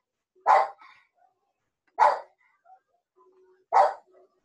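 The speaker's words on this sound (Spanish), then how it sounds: "se escucha mucho a mis perros" A pet dog barks three times at home, each a single loud, close bark spaced about a second and a half apart, with near silence between them.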